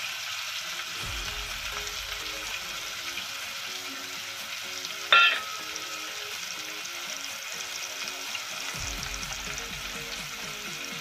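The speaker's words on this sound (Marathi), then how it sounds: "कांदा चांगला लालसर होईसर आता परतायचा" Chopped onion sizzles steadily in a hot pan for Malvani-style mutton, a soft continuous crackle with a sharp clink of a utensil midway and occasional low stirring sounds.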